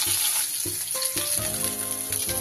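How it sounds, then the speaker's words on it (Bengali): Marinated tyangra fish frying in hot oil produces a loud, continuous sizzle, with tonal clinks and scraping tones from a utensil layered over it and no voices. "অতি সহজে সুন্দরভাবে কিন্তু মাছগুলো ভাজা হয়ে যায়।"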